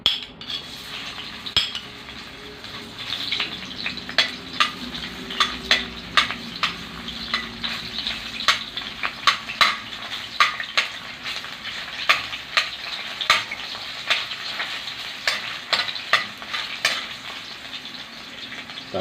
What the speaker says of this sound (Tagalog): ngayon ay mag-gisa na tayo. Nakapag-init na tayo ng mantika. So, unahin muna natin ang sibuyas.